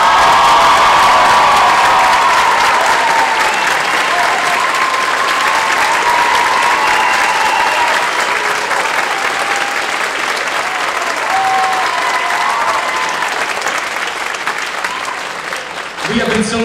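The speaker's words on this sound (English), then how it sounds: "I would like to give one huge round of applause to our student teacher" Sustained applause with cheering and whoops from a high school spring concert audience honoring a student teacher, loud and steady for about sixteen seconds before tapering off at the end.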